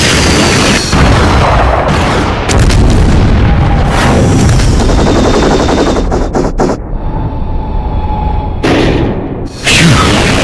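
A mech fires on a target in the video game Murakumo: Renegade Mech Pursuit: loud machine-gun bursts and booming blasts with abrupt gaps and sharp cutoffs, close and intense.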